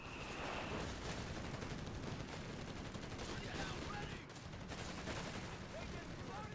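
Machine gun fire in a Company of Heroes 3 tournament match, sustained rattling bursts with distant battle noise under it, steady and fairly quiet throughout, with a commentator speaking over it.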